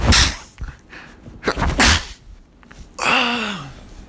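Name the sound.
sneeze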